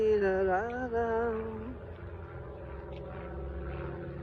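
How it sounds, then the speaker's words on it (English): A small propeller airplane flies overhead on a walk, its droning engine tone loud at first and then fading into the distance, with no one talking. "so it's a little airplane. That's what I thought it sounded like."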